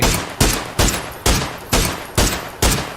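Gunfire in the battle royale video game PUBG: six loud, evenly spaced shots about half a second apart, each a sharp crack with a short decaying tail, with no talking over them.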